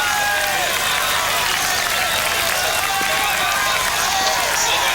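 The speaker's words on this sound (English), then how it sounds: "The crowd here packing the sides of the road to see this breakaway group go through" A dense roadside crowd at the Tour de France on Bastille Day cheers and claps steadily in a loud, unbroken roar as a breakaway group of riders passes.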